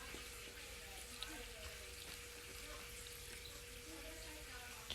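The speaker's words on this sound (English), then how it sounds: "And then pour the water in there." Water from a tank pours into an animal tub in a faint, steady stream of splashing and trickling that continues throughout, with a low hum underneath.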